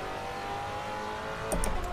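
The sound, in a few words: Maserati Quattroporte twin-turbo engine revving in Assetto Corsa video game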